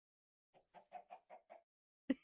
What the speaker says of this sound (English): There's chickens in here!